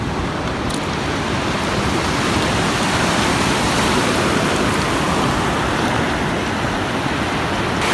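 Rough, choppy sea with waves rolling and churning in a steady, loud broadband wash close by, no voices, heard while out hunting octopus.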